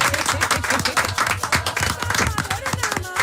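A studio audience claps for a band, loud close hand claps in an irregular burst with a voice faintly underneath, lasting a few seconds.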